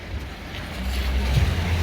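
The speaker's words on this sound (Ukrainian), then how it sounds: "заведений двигун, автомобіль працює" The engine of a black crossover idles at an outdoor used-car market, a steady low rumble with wind noise and a voice talking over it.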